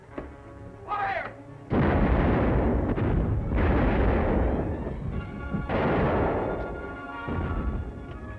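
Ship cannons fire in a naval battle, loud sustained booming blasts and rumbling roars in a few big bursts close by, with a brief shout at the start.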